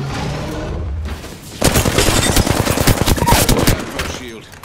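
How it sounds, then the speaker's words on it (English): Rapid automatic gunfire from the Ballistic character in Apex Legends on the Olympus map, a loud dense burst of repeated shots that starts suddenly after a short quieter stretch and keeps going to the end. "Opening fire on the enemy."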